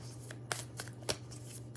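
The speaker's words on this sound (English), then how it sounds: "I mostly shuffle this way for this deck anyway" A deck of flexible oracle cards is shuffled by hand in a few quick, crisp riffling bursts, close and fairly quiet, with no talking.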